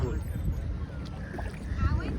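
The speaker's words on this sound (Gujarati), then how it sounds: "આપણી બોટ ચાલે છે આગળ મસ્ત" A small boat moves across a lake between Bhimtal and Nainital, giving a low, steady churning rumble with faint water and wind noise, heard briefly and fairly close.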